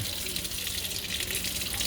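Running tap water gushes steadily over the roots of deflasked Pink Princess plantlets, a continuous close splashing hiss with faint movement beneath it.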